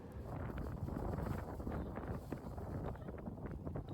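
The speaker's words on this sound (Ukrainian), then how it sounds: "Есть там вітер у них, звісно." Wind buffeting an outdoor microphone in Japan, a steady loud rumble with gusting rustle throughout the few seconds, no voices over it.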